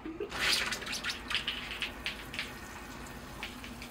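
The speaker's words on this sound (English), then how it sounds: "The tree is ready to be watered. Okay, here I go with the water." Water poured over a freshly repotted oak bonsai, a soft splashing and trickling that is strongest in the first second, then thins to light intermittent drips and patters, close and fairly quiet.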